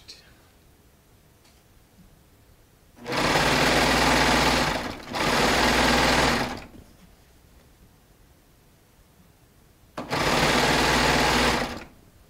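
A Baby Lock Triumph serger running a 4-thread stitch through soft Shannon Cuddle fabric gives three steady, loud whirring runs of a few seconds each, separated by quiet pauses.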